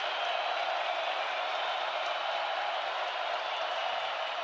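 Dense, steady roar of a big football stadium crowd at a college game between South Dakota State and North Dakota State, a continuous wall of cheering noise with no break throughout.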